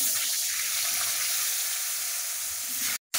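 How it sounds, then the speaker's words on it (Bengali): Potatoes cut into large chunks sizzle and fry in the same oil just used for frying fish, a steady broadband crackle close by with no talking, cut off briefly near the end. "ওই একই তেলে আমরা এখন আলুটা দিয়ে দেবো"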